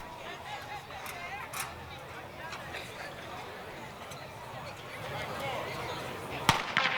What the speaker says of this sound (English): Starter has the gun up.